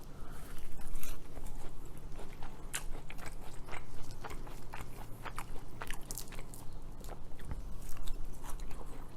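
Repeated crunchy bites and chewing of a flaky, buttery, sugary croissant-style donut from Randy's Donuts with a crispy top layer, close up and continuous with no talk.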